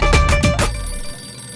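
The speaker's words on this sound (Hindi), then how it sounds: "देख आ गया तेरे मामा का फोन।" A telephone bell rings loudly and close in a couple of quick repeated bursts, then the tone decays into a quiet room with no talking.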